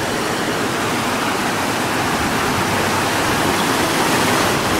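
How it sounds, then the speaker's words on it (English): Water pours steadily through a channel at a Chehalis River coho salmon hatchery, a constant broadband rushing like a small waterfall, close and loud with no break. "It flows in at the far end and constantly out this way."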